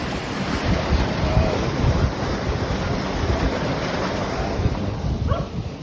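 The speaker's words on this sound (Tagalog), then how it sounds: "Yun lakas ng alon." Strong sea waves surging steadily, a loud, continuous wash of surf mixed with gusting wind noise buffeting the microphone throughout, with no talk.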